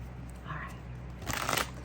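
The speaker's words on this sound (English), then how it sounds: "as I was shuffling this deck" A deck of tarot cards being shuffled by hand, a brief riffling burst of papery rustle near the end over faint background hum.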